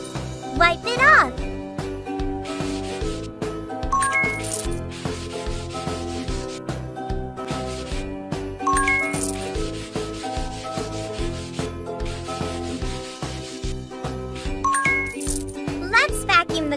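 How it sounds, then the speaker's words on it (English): A cartoon sofa gets wiped clean in a baby care video game, with repeated rubbing swishes over a looping tinkly background tune and occasional chime effects. "Wipe it off."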